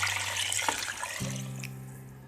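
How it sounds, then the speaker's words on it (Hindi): Water pours from a tap into a cooking pot for potato rice (aloo tahari), a steady close splashing rush that stops abruptly midway, leaving a faint hum. "अब इसमें मैं पानी डाल देती हूँ"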